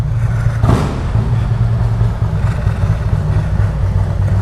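A car engine rumbles steadily and loudly on an outing drive, a deep continuous drone with a brief surge near the start, no talk over it.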